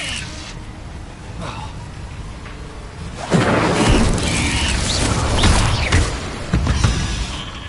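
Incendio fire spell cast in Hogwarts Legacy: after a quiet stretch, a loud roaring burst of flame erupts and rumbles on with crackling swells to the end.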